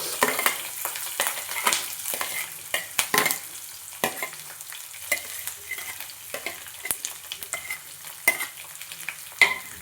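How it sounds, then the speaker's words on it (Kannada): Peanuts dry-roasting and being stirred in a pan until reddish-brown, a steady irregular scraping and rustling with soft sizzle, close and moderately loud, with no talk. "ಈಗ ಕಡಲೆ ಬೀಜ ಹುರ್ಕೊಳ್ಳೋಣ ಕೆಂಪಗಾಗೋವರೆಗೂ"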